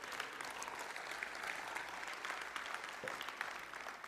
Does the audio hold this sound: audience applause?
yes